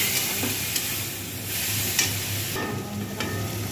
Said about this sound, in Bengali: বাটা মশলাটা একটু জল দিয়ে